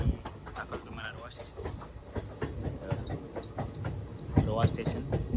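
A passenger train pulls into Roha station with a rattling, irregular clatter of wheels and couplings, moderately loud and close, while voices talk nearby.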